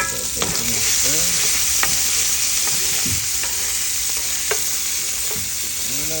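Bacon frying crisp in a pan gives off a loud, dense, continuous sizzle, with occasional clinks of a utensil and faint chirping sounds in the background.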